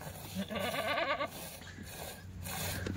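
Kathiawadi goats bleat repeatedly in wavering, nasal calls, with a loud burst of bleating in the first second and more calls continuing faintly behind.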